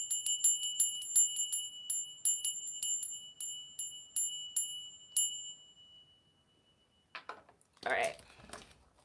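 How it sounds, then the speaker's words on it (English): A small handheld bell is rung about a dozen times in a quick, steady rhythm during a tarot reading. Each clear, high ring overlaps the last before the sound fades out, and a brief voice follows. "Let's get the bell."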